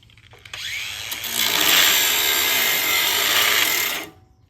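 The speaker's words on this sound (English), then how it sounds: "What kind of piece of junk kind of angle grinder is that?" Battery-powered angle grinder spinning up with a rising whine, then running loud and steady for about three seconds before cutting off abruptly, close by and without speech.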